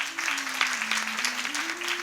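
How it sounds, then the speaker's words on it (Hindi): An audience at a Shrimad Bhagavat katha at a Gaudiya math in Mathura claps in dense, steady applause for visiting devotees, over a sustained low drone tone. "आप सभी लोग इनके लिए क्या करो, जोरदार तालियां बजाओ एक बार"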